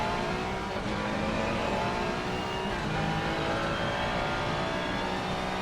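A Porsche GT3 race car engine roars in a racing video game, a steady, dense, sustained drone of revving that holds at an even level throughout with no talk.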